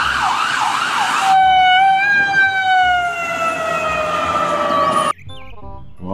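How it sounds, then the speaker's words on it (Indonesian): An ambulance siren wails loud and close, its tone first warbling fast and then switching to a long, slowly falling steady wail before cutting off abruptly. "Kalau yang ini ambulans."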